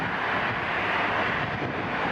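An airplane taking off on runway 05 at Toronto Pearson airport produces a steady, broad jet engine roar, fairly distant and constant with a wind-like wash, with no talk.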